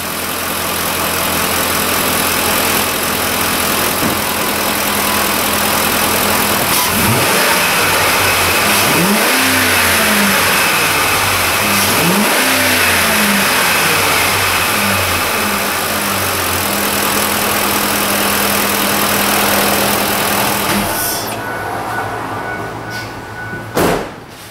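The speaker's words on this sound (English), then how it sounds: "I just gave her the old rev up tune-up." Ford F-Series truck with a 5.4 three-valve engine revving loudly up and down a few times from idle, up close, with a steady roar that drops off at the end.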